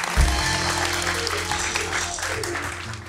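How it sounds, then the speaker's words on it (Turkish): A studio audience applauds steadily and loud throughout on the Turkish late-night talk show İbrahim Selim ile Bu Gece, with a low musical hum beneath the dense clapping. "Alkışlıyoruz hanımefendi."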